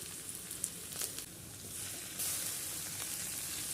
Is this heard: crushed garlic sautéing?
yes